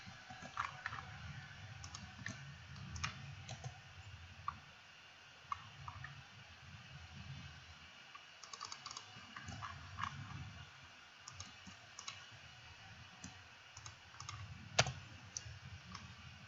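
Computer keyboard typing during a coding livestream, faint scattered key clicks in irregular bursts over a low background hum, with no talking.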